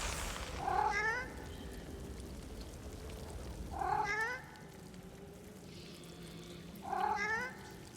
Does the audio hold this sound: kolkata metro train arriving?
no